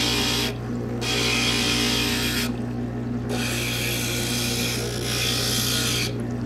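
Glass being ground for a Flower of Life stained-glass piece, a loud harsh rasping grind over a steady motor hum, broken by a few brief pauses where the glass lifts off the grinder.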